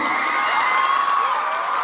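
An audience at a Republic Day function for young talents cheers and whoops with a continuous crowd roar, loud and sustained throughout.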